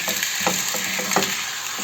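Steady sizzling from a hot frying pan as a tortilla flatbread fries, with a few soft crackles and pops over the constant hiss.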